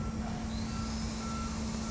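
Railway crossing warning alarm sounding steadily from some distance, a continuous tonal ring over a low rumbling background, with no voices.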